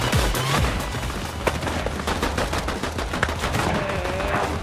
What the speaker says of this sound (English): Click off if you don't like shooting and guns.